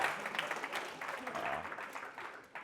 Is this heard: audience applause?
yes